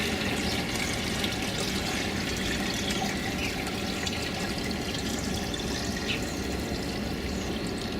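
Fermented wild plant tea pours steadily from a square bucket into a watering can in a garden, a continuous close splashing flow with no pauses.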